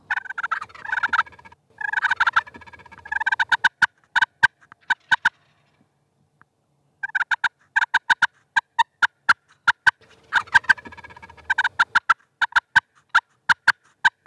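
Osceola wild turkeys gobble repeatedly, loud and close, in several rapid bursts of rattling calls separated by short pauses and a brief quiet gap, with no talking.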